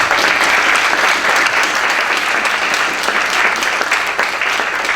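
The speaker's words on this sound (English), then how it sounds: "So, to all of our panel, thank you very much. A round of applause." A large audience applauds a discussion panel at an art gallery, with dense, steady clapping that holds at full strength throughout, close and loud.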